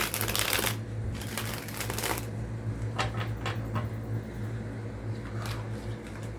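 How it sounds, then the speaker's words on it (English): A deck of cards being shuffled in several quick riffling bursts, crisp and close, with a steady low hum underneath. "let's do a good shuffle"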